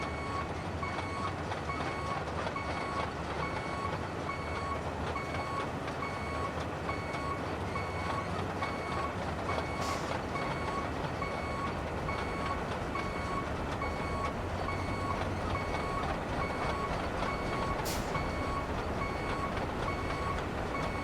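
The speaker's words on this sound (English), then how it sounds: "Beep, beep, beep, and more beeps." Steady electronic reversing beeps from a heavy truck in the RoadCraft video game, repeating evenly over a continuous loud engine and rolling drone, with no voices heard.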